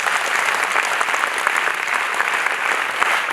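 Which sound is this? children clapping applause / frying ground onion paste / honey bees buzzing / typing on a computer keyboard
children clapping applause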